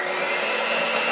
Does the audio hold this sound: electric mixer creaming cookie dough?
yes